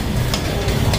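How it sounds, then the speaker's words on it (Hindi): Ginger and garlic sizzle loudly in hot oil in a pan as they are stirred, a dense, continuous frying hiss with a few soft scraping strokes, close and steady throughout. "और उसके बाद थोड़ा हिला दो अदरक लहसुन को भी उसमें लगने दो, बराबर करके हिला दो।"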